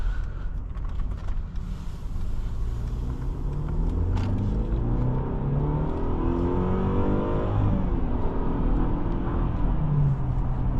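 A Mercedes-Benz GLE 350 SUV with a 2-liter turbo four-cylinder accelerating on the road, a steady, moderately loud engine drone rising in pitch through the run, with tire and road rumble underneath.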